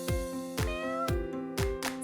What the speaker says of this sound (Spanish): Así suena el gato.